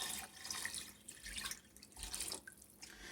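Cold filtered tap water runs steadily into a pot over raw chicken pieces for Middle Eastern chicken soup, a continuous close splashing stream with slight shifts in flow and no talk.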